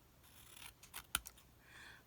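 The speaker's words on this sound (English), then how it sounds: "So we'll get this paper trimmed off of here" Small scissors trim Stampin' Up Perennial Essence patterned paper for a Halloween card project, giving a few quiet, crisp snips with one sharper, louder cut in the middle. Close and alone, with no talking.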